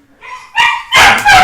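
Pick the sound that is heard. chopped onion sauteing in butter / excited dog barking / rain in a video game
excited dog barking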